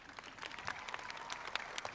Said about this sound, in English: please give a round of applause to the class of 2021